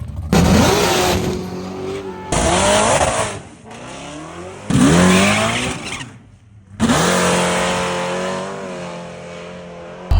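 A loud drag race car revs hard at a drag strip in several long bursts, engine pitch climbing as tires squeal and spin, with brief pauses between runs.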